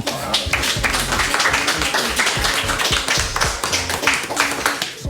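Dense, sustained applause from a festival talk-show audience, many hands clapping steadily and loudly throughout with faint crowd noise beneath.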